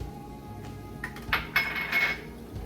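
A spoon stirring cinnamon, black pepper, paprika and nutmeg in a cooking pot for moussaka, a few close metallic scrapes and clinks against the pot over a low background.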